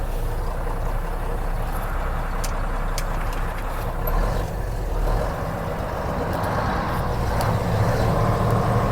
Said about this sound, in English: So that's in second gear reverse here in the 12 speed.